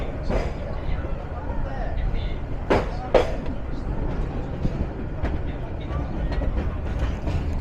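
The Egarosindhur Provati Express pulls out of Guchihata station in Bangladesh with a steady low rumble of rolling carriages, broken by a couple of sharp metallic clanks and a faint murmur of background voices.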